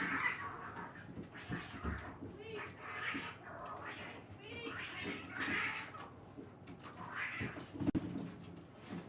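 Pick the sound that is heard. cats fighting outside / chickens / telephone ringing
cats fighting outside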